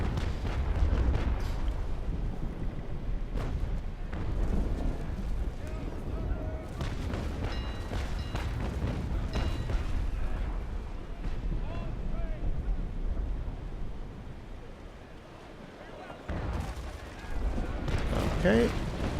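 In the Naval Action Legends video game, 6-pounder long cannons fire a broadside as a series of deep booms and rumbling blasts with the sea in the background, mixed under someone speaking.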